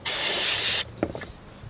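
Carburetor cleaner sprays in one loud, steady hiss for nearly a second onto the spark plug wires of a 1999 Nissan Altima, followed by a few faint clicks and handling noises.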